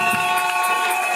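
A church audience at a Bible school ceremony in Kinshasa cheering and acclaiming, a dense continuous roar of many voices with high shouts and rhythmic clapping, loud and close.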